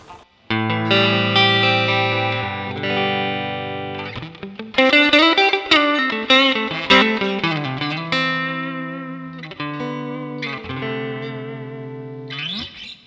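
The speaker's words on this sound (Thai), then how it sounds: "เมื่อกี้เป็นเสียงของ Twin Reverb" Electric guitar through a NUX Mighty Plug MP-2 Twin Reverb clean amp model, chords and single notes ringing out with sustain and a touch of reverb, played alone with no voices.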